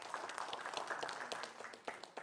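An audience at a 2020 Karawang regional election public debate applauds. The clapping is soft and fairly distant, with scattered claps rising and thinning over a couple of seconds.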